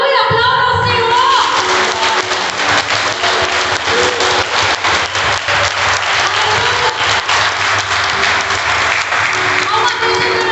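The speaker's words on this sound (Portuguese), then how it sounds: "Aplauda ao Senhor!" A church congregation claps during a worship service, sustained loud applause for about ten seconds with voices and faint music underneath, crowded and close throughout.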